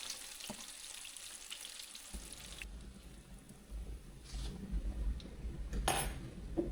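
Bluegill fillets sizzle in a hot pan while they are flipped, with a steady frying hiss, clinks of a utensil against the pan, and a louder burst of sizzling after the turn.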